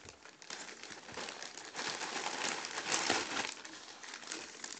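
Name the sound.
parcel packaging being opened and crinkled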